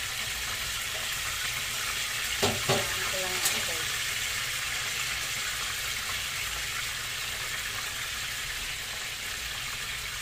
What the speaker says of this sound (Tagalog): Piniprito ko po muna yung pork